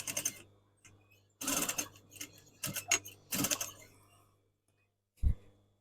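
Sewing machine top stitching fabric boomerang tie backs, with several short close bursts of rapid ticking stitches broken by pauses and a soft thump near the end.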